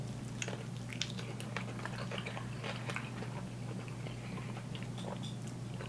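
A Chipotle burrito with fajita veggies, queso and sour cream being bitten and chewed up close, soft wet mouth sounds and small crunches, faint and steady against a low hum, with no talking.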